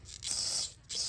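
Carburetor cleaner sprayed through a small passage in a carburetor gives two short hissing bursts, close and fairly quiet, with a brief gap between them.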